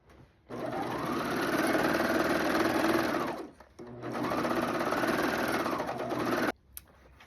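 A sewing machine stitches a denim jumpsuit in two sustained bursts of fast, even whirring hum, each about three seconds, close and loud, with a click at the end and no speech.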